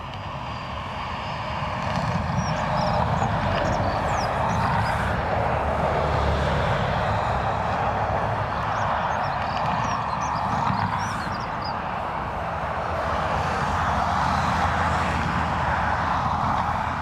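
Aircraft at Dublin Airport, a Ryanair jet arriving from Bergamo followed by an ATR turboprop from Edinburgh, producing a steady, fairly distant broadband engine roar that holds for the whole stretch with faint outdoor ambience and no talk.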